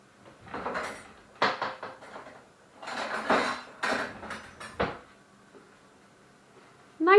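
Rummaging in a kitchen for a spoon, with a cupboard or drawer knocking open and several clinks and rattles of cutlery in close succession, then a brief pause before a final clatter.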